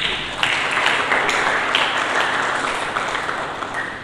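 A church congregation claps in sustained, dense applause that holds steady and close throughout, with no talking over it.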